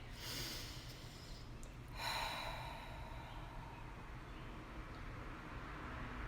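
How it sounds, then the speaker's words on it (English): A single soft, deep breath drawn in through the nose, faint and close, followed by a quiet exhale against a low steady background hum. "let's just take a deep breath for a second"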